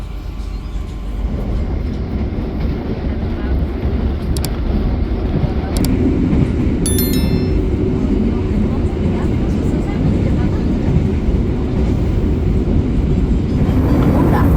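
The KA Cirebon Fakultatif passenger train rolls out of a station at night, heard from inside as a steady low rumble and rattle that builds slightly, with brief metallic clicks and squeaks.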